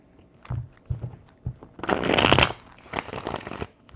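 Tarot cards are shuffled by hand in several bursts of riffling and flapping, preceded by a few soft taps, close and loud with no talking.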